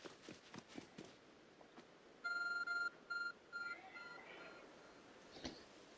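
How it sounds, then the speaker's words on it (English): Electronic beeping from an Arc phone in the Pokemon Legends Arceus video game: a few bright repeating beeps in short bursts midway, after soft running footsteps and game ambience. "There's a growing beeping object over there."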